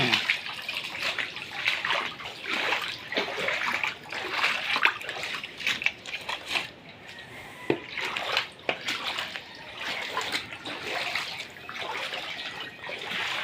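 Typhoon floodwater inside a house in Manila splashes and sloshes in uneven, repeated bursts, loud and close throughout.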